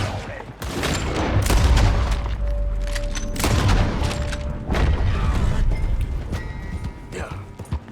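Gunfire in Red Dead Redemption 2: several loud, booming shots and bursts ring out in quick clusters with heavy low-end echo, mixed with shouting voices and clattering movement.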